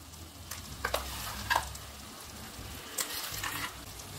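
Stuffed brinjal sizzles and fries in oil for a Chettinad-style masala, a soft steady crackle heard close but faint, with a few brief stirring scrapes and no voices.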